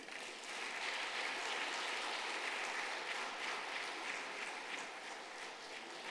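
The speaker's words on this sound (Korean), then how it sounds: "크게 박수 쳐주세요." A church congregation at a Sunday service claps loudly and steadily, a dense crowd of hands rising quickly and holding for several seconds before easing slightly.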